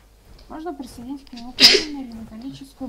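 A single sharp sneeze bursts out in the middle of a man's ongoing speech during a co-op session of ARK: Survival Evolved on the Ragnarok map, close and loud.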